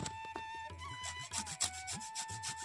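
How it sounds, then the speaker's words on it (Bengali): Gondhoraj lemon rind rubbed against a grater to take off the zest: steady, close rasping strokes with a scratchy texture, repeated in an even back-and-forth rhythm, no voices. "লেবুটার এরকম সাইডটাকে একটু এরকম করে নিয়ে নেব, ঘষে ঘষে।"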